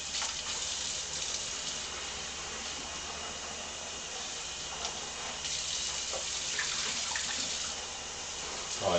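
Pork chops are rinsed under a running tap, a steady low rush of flowing water with faint splashing changes as the meat is moved beneath the stream.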